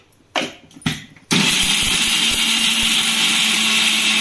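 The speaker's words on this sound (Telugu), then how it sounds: "కొబ్బరి యాడ్ చేసి మళ్ళీ మిక్సీ పట్టండి." A mixer grinder grinds coconut and dried red chillies in a mixie jar, with two short knocks first and then a loud, steady motor whine kicking in and running to the end, close and uninterrupted, with no talking.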